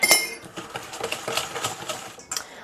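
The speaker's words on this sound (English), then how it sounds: "And then I'm just going to mix this all together" A spoon clinks and scrapes steadily against a bowl while oil, sugar and vanilla are mixed together for vegan chocolate chip cookie dough. The clattering strokes are close and irregular, with a brief louder burst near the end.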